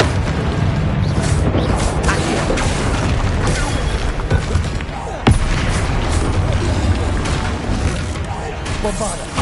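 Constant battle din from the Hogwarts Legacy video game, with a Bombarda explosion spell bursting in a sharp boom around the middle amid dense, loud spell effects and crashes.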